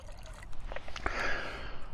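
Water trickling and dripping from a squeezed water filter bag at a lakeside point on a solo bikepacking trip in Finland, soft irregular drips then a steadier close dribble for about two seconds, no talk.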